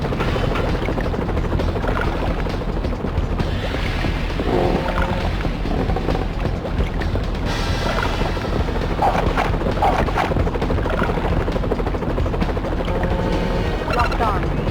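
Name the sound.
helicopters flying in the video game 007: The World Is Not Enough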